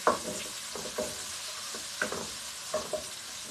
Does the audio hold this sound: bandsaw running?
no